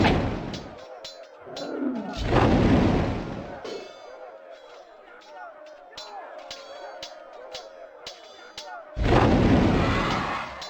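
Cannon fire in the Warhammer: Shadow of the Horned Rat battle game, two heavy, booming blasts a few seconds apart and then a third, with crackling impacts and faint battle noise in between.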